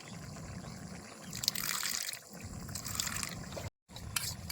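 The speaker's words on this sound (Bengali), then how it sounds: "এবার এর মধ্যে সামান্য পরিমাণে জল দিয়ে দেবো" Water poured into a bowl of ground rice and garam masala, a steady close trickling pour with brief pauses, soft and alone.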